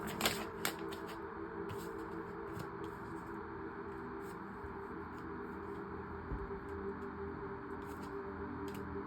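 Soft, quick clicking and riffling of tarot-style cards being shuffled, irregular light taps close to the microphone over a quiet background hum.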